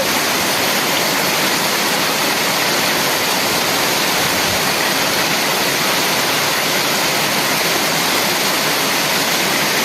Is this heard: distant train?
no